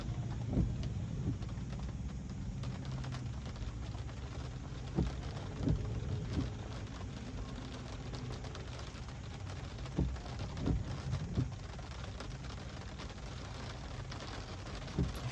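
Rain on a 2019 Tesla Model 3 Long Range AWD during a wet commute, a steady wash of drops against the car with low cabin road rumble and occasional louder taps and thumps.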